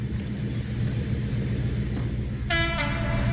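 A Class 56 diesel locomotive passes through Shawford Station with a heavy, continuous rumble, then sounds a loud horn blast in the final second.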